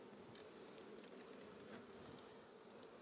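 Honey bees buzzing at an open hive while frames are handled late in the day, a dense, steady drone that stays constant throughout with no voices.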